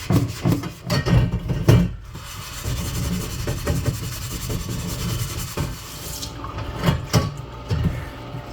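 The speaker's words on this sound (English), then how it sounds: "So you're just gonna add baking soda and rinse as many times as it takes until you can scrub all" Running tap water splashes and rushes over a rusty cast iron pan, mixed with rubbing and scrubbing noises as baking soda is rinsed off, steady throughout with a few louder bursts.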